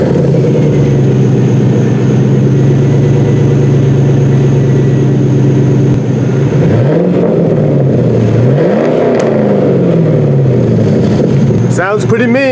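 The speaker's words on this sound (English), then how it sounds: "And now we're going to start it up" A Pontiac Trans Am WS6 with a chambered exhaust idles with a loud, deep, steady rumble, then rises and falls in a few revs near the end, close to the microphone.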